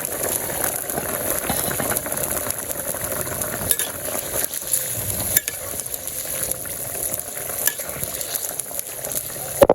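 Fish dropped into a curry cooking in a pan, which bubbles and sizzles loudly and continuously with stirring noises throughout.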